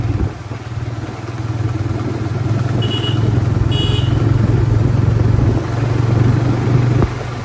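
A new motorcycle with a five-speed gearbox, ridden in power mode, gives a steady mid-pitched engine drone with a low rumble throughout, plus wind and road noise and a few brief clatters.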